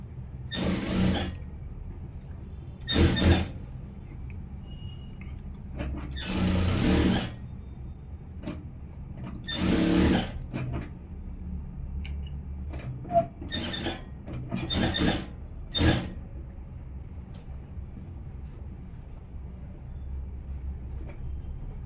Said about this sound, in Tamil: இப்போ நம்ம தைக்க ஆரம்பிச்சிடுவோம்.